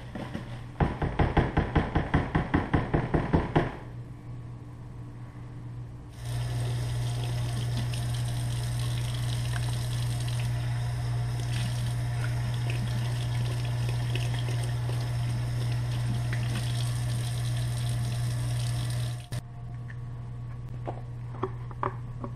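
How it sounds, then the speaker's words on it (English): Water runs steadily from a kitchen sink tap while a Keurig K-Cup refill filter is rinsed out, a continuous close stream with a knocking start and a short rattle before it. "rinse it out in the sink"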